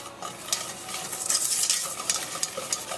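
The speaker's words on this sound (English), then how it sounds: "sugar will melt down to a liquid state" Sugar melting in a pan for oatmeal fudge cookies gives a soft, steady sizzle with scraping stirs that swell in the middle and fade, heard close with no talking.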